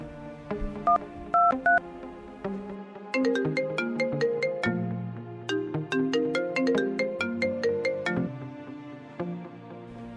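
Telephone dialing and ringing: a quick run of electronic keypad beeps, then a bright, repeating ringtone melody of tonal chirps played in bursts, with no talk.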